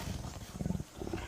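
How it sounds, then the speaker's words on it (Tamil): A tiger roars in a Tamil comedy film scene set in a jungle, giving a low, rumbling growl in repeated bursts, loud and close, followed by a second shorter roar. "யோ புலிப்பா."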